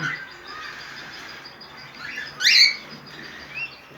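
New breeding pair of cockatiels chirping close by in a quiet room, a few short whistled chirps with one louder bright call midway and softer calls around it.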